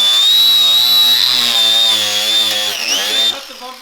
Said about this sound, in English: I've never seen someone take up front bumper with an angle grinder.